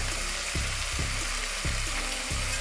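Carrots stirred into a pot sizzling with tomato paste, a loud continuous fry with rhythmic scraping thumps of a spoon roughly every half second, close up and with no voices.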